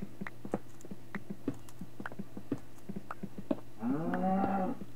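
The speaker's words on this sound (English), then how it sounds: "There's some cows there, they're not going to be out there for too long." Sharp keyboard clicks tap irregularly, then near the end a Minecraft cow gives a single drawn-out moo over the typing.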